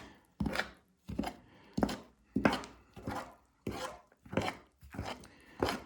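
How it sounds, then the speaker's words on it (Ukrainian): Rhythmic scraping strokes of a spoon working through thick whole-grain flour bread dough in a bowl, about eight even, moist pushes close up. "берете отако ложкою, все перемішуєте"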